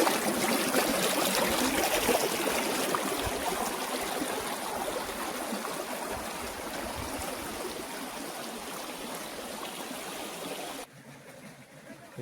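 Penchalakona waterfall stream rushing over rocks, a loud continuous broadband rush that drops suddenly quieter near the end.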